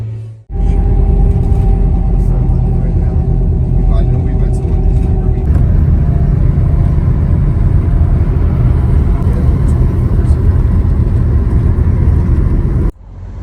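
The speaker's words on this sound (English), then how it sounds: "Getting the bus parked." A tour bus drives and maneuvers into a parking spot behind a concert venue, with a loud, continuous low engine rumble and road noise that shifts in tone midway, close and steady throughout.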